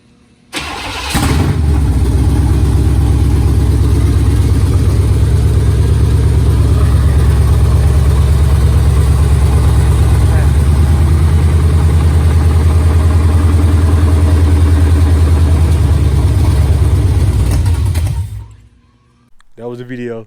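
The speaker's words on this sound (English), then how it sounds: "That was a video of the first day I ever heard this motor start." A GM G-body car engine fires up and runs at a steady, loud idle for about seventeen seconds, a dense unbroken rumble close to the mic, then cuts out abruptly near the end.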